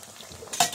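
Taro frying in hot oil as it is stirred: a low, steady sizzle builds, then one sharp clatter and a brighter sizzling burst near the end.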